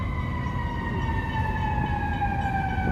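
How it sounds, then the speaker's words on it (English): Emergency sirens wail through a Chicago street scene near a river drawbridge, a steady rising and falling tone that carries over a constant city rumble and stays moderately loud throughout. "Always sirens."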